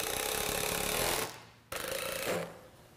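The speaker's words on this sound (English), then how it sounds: "Screw the rails to the rungs, spacing them every 20 inches or so with a couple of self-tapping wood screws." A power driver sinks self-tapping wood screws through sawhorse rails into the rungs, two close, loud whirring bursts with a short pause between them, the second fading out.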